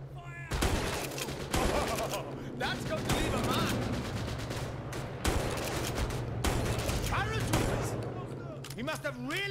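Dense gunfire in the World War II shooter Raid World War II, with rapid bursts and fusillades close and loud, sustained almost continuously, and occasional voices shouting over it.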